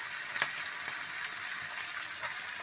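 Bay leaves and dried red chilies sizzle in hot oil with a constant, bright hiss and a few faint pops, with no talking.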